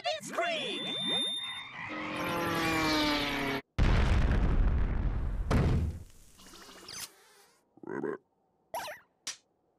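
Cartoon Magiswords effects: a frog missile croaks and whooshes, then an exploding bubble bursts with a loud boom, followed by short pops and clicks trailing off into silence.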